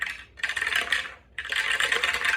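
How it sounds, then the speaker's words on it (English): Dice tumble and clatter during a game of the ISS Vanguard board game, two close rattling bursts separated by a brief pause, with no talking. "This person's rolling the dice."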